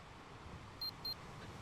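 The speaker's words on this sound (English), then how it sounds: "Now I can hear that watch beeping in the background" Two short, high electronic beeps from a watch in a video game, evenly spaced and faint over a low background hum.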